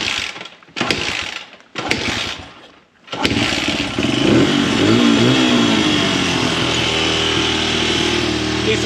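Honda CRF100F dirt bike with a new aftermarket carburetor, after a few short starting bursts, fires up and settles into a steady, loud, slightly uneven idle close by.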